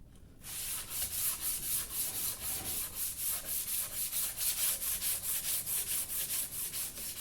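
Sandpaper rubs along the grain of a rustic wooden toilet paper holder in quick, rhythmic, evenly spaced strokes, close and moderately loud, with no talking.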